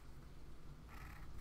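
A few-months-old kitten purring up close, a soft, steady low rumble running through the whole moment, with no talking.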